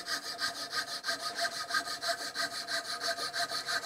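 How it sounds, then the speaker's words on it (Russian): A hand saw cuts wood while guided along a magnetic miter guide, making a steady rhythmic rasp of even back-and-forth strokes, close and clear, with no voices. "Смещаем магнитное стусло примерно по центру и пилим"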